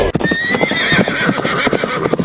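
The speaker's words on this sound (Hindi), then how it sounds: "ये देखो दोस्तों, मेरा सफेद घोड़ा जिसे मैंने जापान से मंगाया" Horses racing against each other, with a loud high whinny rising over rapid galloping hoofbeats that thud steadily throughout, close and without talk.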